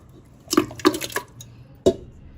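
Water from a rinsed marinating bowl poured into a pressure cooker holding marinated mutton, heard as a few short splashy pours and sloshes, close and fairly loud, with quiet gaps between.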